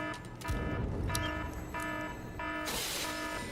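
Generic alarm sound effect in a video game, a repeating electronic beeping in bursts with a busy game soundtrack underneath, moderately faint.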